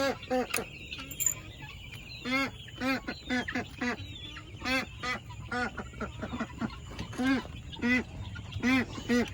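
Several ducks quack repeatedly in rough bursts, loud and close, with overlapping calls and a faint background hum.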